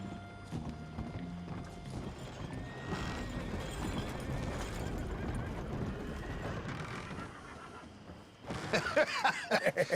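Horse hooves clip-clop steadily in a video game, with a busy layer of other game sounds and a brief neigh-like burst near the end.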